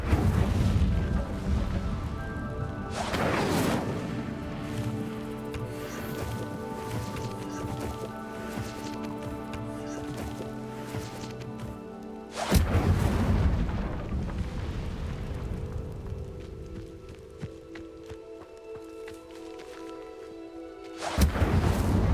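The Incendio fire spell is cast in Hogwarts Legacy, with loud booming bursts of flame at the start, midway and at the end, separated by sustained fiery rumbling and ringing magical tones.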